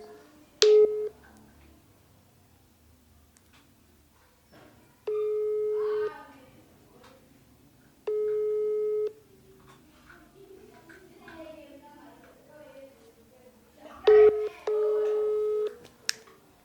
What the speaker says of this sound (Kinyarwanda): ngiye kumuhamagara numve gufata telefone